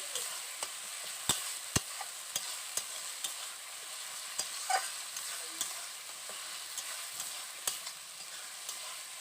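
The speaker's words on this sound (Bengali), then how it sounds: "এবার সমস্ত মশলাগুলো আবারও কষিয়ে নিচ্ছি" Spices with freshly ground cumin frying in a pan for an egg and potato curry, a faint steady sizzle punctuated by sharp scraping knocks of the spatula at an uneven pace.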